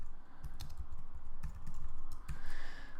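Steady typing on a computer keyboard while coding an online shop, with quick clustered keystrokes close up and running continuously throughout.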